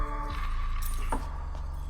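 Metallic keys jingle close by for about two seconds as a door is locked, a steady low hum running underneath the light rattling.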